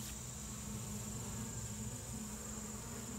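Bees buzz steadily around an open Langstroth hive during an August inspection, a dense, continuous drone close by with no pauses and no voices.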